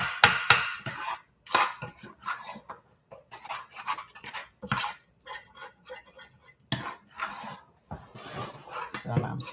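A spoon scraping and tapping around a pot of homemade praline candy on low heat, giving irregular clinks and soft scrapes in short bursts separated by brief pauses.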